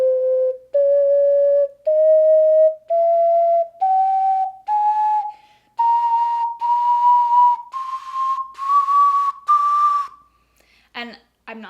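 A cheap ocarina bought from Amazon plays a slow rising run of low notes, each held about a second with short gaps between them. The tone is clear and whistle-like, close and fairly loud, with a faint noisy burst at the end.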